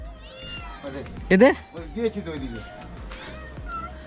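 Cats meowing at home, a loud close meow in the middle followed by fainter mewing, mixed with a person talking throughout.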